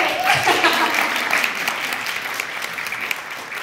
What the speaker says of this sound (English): everybody clap, that was it